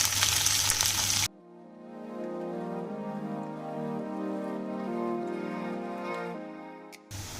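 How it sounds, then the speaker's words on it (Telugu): Sliced onion and green chilies fry in hot oil in a steady, close sizzle. A louder, brighter burst of crackling comes first, then the frying settles into a softer hiss alongside a sustained tonal hum. "ఇప్పుడు ఈ ఉల్లిపాయ పచ్చిమిర్చి వేసి వేగనివ్వండి"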